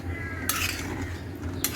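Knife cutting through pieces of rohu fish kept in the fridge, in a home kitchen: two short, crisp clattering strikes against a low, steady background hum.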